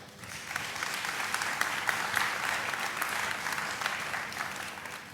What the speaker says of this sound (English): I would now invite the audience to thank you by applauding for this wonderful work in producing this book